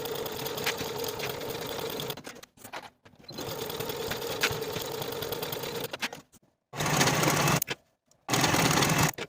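A sewing machine stitches the underarm seams of a dress sleeve in three runs of rapid steady whirring, the first two long, the last split by a short pause.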